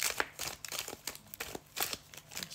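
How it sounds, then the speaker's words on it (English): Trading cards from a Pokemon Lost Origin booster are shuffled by hand close up, a rapid series of crisp riffling flicks and papery slaps coming in short bursts with no talking. "It's my Yu-Gi-Oh shuffling from back in the day."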